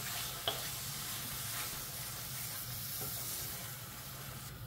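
Potatoes sizzle and fry in a pan with fish eggs, a steady close hiss of hot oil with occasional stirring scrapes and a small clatter near the start, no voices.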